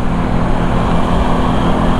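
A freshly carburetted Honda CB 450 motorbike engine drones steadily up close, a loud, unbroken mechanical hum with no noticeable swells and no one talking.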